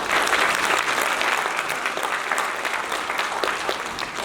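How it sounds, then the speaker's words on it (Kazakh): An audience applauds graduates at the SSH graduate graduation ceremony, with sustained clapping from a large crowd that swells at first and then slowly thins out. "Осы сәтті пайдаланып, жаңа түлектерімізге де, олардың жетістігіне осындай маңызды рөл атқарғандарға да қол шапалақтайық."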